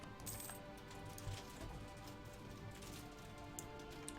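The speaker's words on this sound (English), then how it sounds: "that's the rain splattering against my window" Faint rain splatters against a window, scattered light taps over a quiet steady background with no voices.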